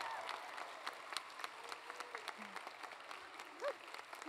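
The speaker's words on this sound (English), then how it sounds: "Students, give your teachers and support staff a round of applause." Faint, scattered applause from a graduation ceremony crowd honoring teachers and staff, with light claps and soft crowd murmur at a distance.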